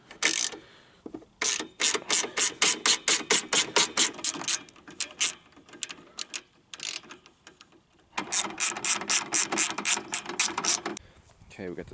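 A hand ratchet loosens Jeep headlight bolts, clicking in rapid, loud, close bursts, with a short pause near the middle and a final few clicks at the end.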